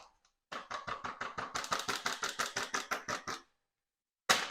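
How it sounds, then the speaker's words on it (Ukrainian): A packaged spice mix for home alcohol infusion tumbles out in about sixteen quick, rhythmic rattling bursts, close and fairly loud, then silence before a brief final burst. "Тепер ми все висипаємо"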